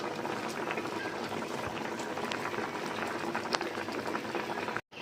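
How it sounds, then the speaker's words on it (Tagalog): A pot of paksiw na isdang bato, a Filipino vinegar-braised fish stew, simmers at a steady rolling boil, with continuous bubbling and popping over a soft background hiss, close by. "Yan, kumukulo na po."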